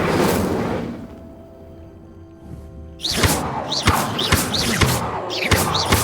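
Fire spell bursts in the video game Hogwarts Legacy: after a quiet stretch, a loud whooshing crackle erupts midway and keeps flaring with repeated sharp thuds and bright swishes to the end.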